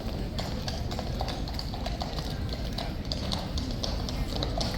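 Hooves of King's Guard horses clip-clopping on the ground at Horse Guards in London, a steady run of close, loud hoof strikes over constant outdoor crowd noise.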